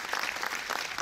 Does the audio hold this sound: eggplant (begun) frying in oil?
no